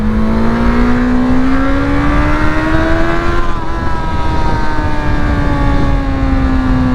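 A car engine revs steadily through homologated exhausts, its drone climbing and easing back without any voice in the mix, loud and near for the full seven seconds.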